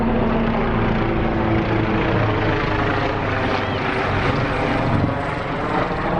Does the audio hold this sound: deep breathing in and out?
no